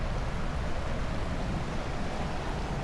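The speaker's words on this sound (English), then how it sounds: "So this is the river over here." River water flows steadily near a park and public library, a continuous broadband rush with no breaks, close and fairly loud throughout.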